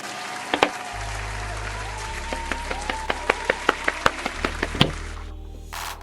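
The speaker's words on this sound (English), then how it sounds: "round of applause" A small live-show audience gives a round of applause, with scattered sharp claps building into a brief burst under a low hum, then tapering off.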